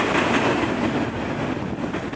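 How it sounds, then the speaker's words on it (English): A train rolls past at close range, a dense, steady rumble and clatter of wheels on rails filling the whole stretch with no talking. "We'll watch it go by now. We'll watch this train."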